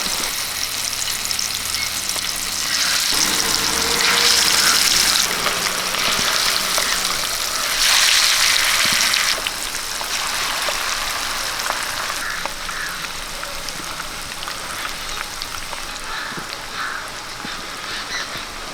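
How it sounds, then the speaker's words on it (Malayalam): Steady, loud sizzling and crackling of sardines frying in hot oil, with bursts of stronger spitting and no voices. "എണ്ണ ചൂടായിട്ടുണ്ട് ഇനി നമുക്ക് മീനൊന്ന് വറുത്തെടുക്കാം"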